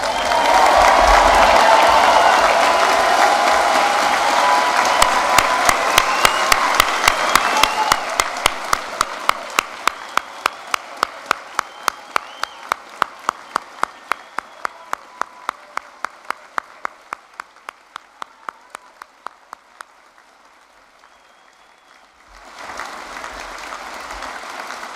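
Graduation ceremony crowd bursts into loud applause with cheering, then the clapping thins into scattered, separate claps that fade away before a return of hall ambience.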